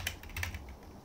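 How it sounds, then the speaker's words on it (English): Computer keyboard typing during a Tetris game, a quick burst of several close, light key clicks in the first half second that then trails off into quiet, with no talking. "Sorry for the keyboard noise."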